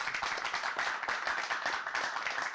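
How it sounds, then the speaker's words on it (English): A quiz show studio audience claps in a soft, brisk, continuous patter that holds at a steady low level for a couple of seconds. "Applause."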